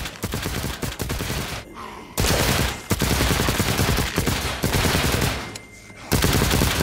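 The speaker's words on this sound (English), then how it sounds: "I think our submachine gun should take care of that." Rapid submachine gun bursts ring out in The Walking Dead: Saints & Sinners, with loud sustained volleys of gunfire broken by a few brief pauses and no talking.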